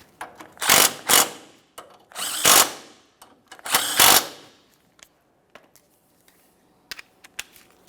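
A power tool snugs the brake dust shield mounting bolts on a 2014-2019 Toyota Corolla in three loud whirring bursts, followed by faint clicks and taps of tools.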